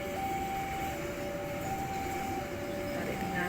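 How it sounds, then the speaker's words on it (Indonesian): A long container freight train rolls past nearby at a level crossing on a city street, giving a steady rumble with a sustained tonal whine and no speech over it. "Dan ternyata kereta api peti kemas yang sedang berjalan di depan itu."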